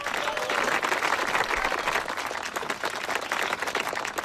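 An audience applauds at an autumn harvest festival, a dense, even wash of clapping that holds steady for a few seconds with no voices on top.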